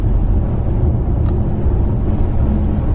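A car engine on the A3 drones loudly and steadily from inside the cabin, a dense low rumble as the driver changes down a gear and the revs climb toward 4,000 and then settle back near 2,000.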